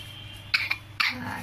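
A child eating coughs in a few short, close, abrupt bursts, about three in quick succession, with faint background noise between them.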